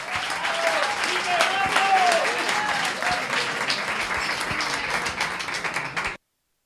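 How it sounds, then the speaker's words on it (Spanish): A lecture audience at a beer-chemistry science event claps for the Physics League performers, a full, lively round that swells early with a voice briefly heard over it, then holds steady before cutting off abruptly. "os pido un aplauso para los chicos de Physics League,"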